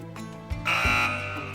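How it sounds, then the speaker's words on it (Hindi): A quiz-show answer buzzer gives one steady electronic tone lasting about half a second, preceded by a couple of soft thumps, during a televised Ramadan special quiz on Islamic knowledge. "चलें बजर इनेबल कर रहा हूँ।"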